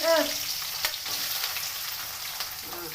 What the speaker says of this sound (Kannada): ಎಣ್ಣೆಯಲ್ಲಿ ಈರುಳ್ಳಿ ಹಾಕ್ತೀನಿ